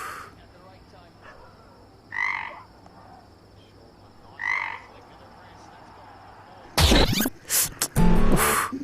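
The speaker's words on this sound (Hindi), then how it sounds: "अरे मेंढक है।" A frog croaks in two short separate bursts against a quiet background hum, followed by louder, harsher noise toward the end.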